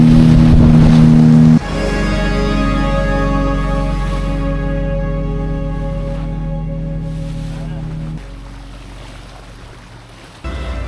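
Boat riding a rough sea off the Malvan coast, a loud steady engine drone with rushing water and wind that fades slightly, then briefly dips near the end.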